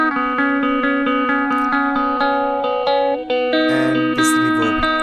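Electric guitar stem processed with saturation, compressor and reverb in FL Studio, a steady picked chord pattern with sustained ringing tones, changing in the last two seconds to brighter accented notes with lingering ambience.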